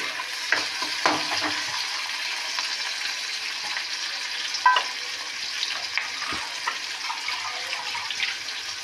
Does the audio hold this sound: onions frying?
yes